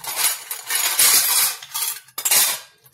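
Metal puja utensils and a bonti blade, freshly scrubbed with pitambari, clatter and clink as they are picked up and set down, a run of bright, close metallic knocks and rattles with short pauses, no talk.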